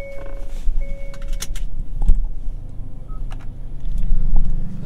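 Car interior on a leisurely drive home from the city, with a steady low road rumble and engine hum throughout and a few faint clicks and beeps over it.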